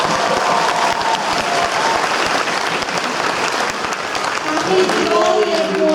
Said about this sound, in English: give a huge round of applause to all the parents